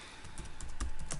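Computer keyboard keys tapped while an email is being typed, a quick uneven run of close, light clicks with no voices.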